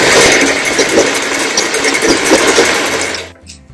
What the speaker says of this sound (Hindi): ये देखिए, इसकी बाउंड्री में सिलाई लगाना स्टार्ट करते हैं।